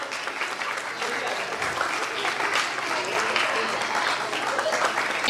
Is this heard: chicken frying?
no